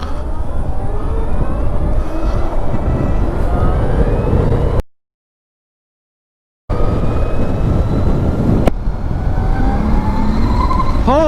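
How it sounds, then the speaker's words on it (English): A Harley-Davidson LiveWire electric motorcycle accelerates on a highway, giving a loud, steady whine and wind roar with a rising high tone, cut by a short silent gap midway. "Once on the highway, give it a little more throttle, it just sounds like a jet engine."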